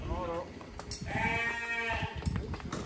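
Young lambs bleat repeatedly in a pen on a cattle farm, their calls mixed with nearby human voices and general barn noise.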